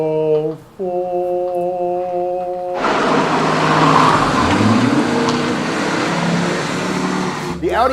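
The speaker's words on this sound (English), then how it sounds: "Enter the Audi Quattro" An Audi Quattro, Audi's first all-wheel-drive car, a 1980 sports car, roars into motion with a loud, sustained engine noise and tire squeal after a few seconds of steady tones; a voice talks over it.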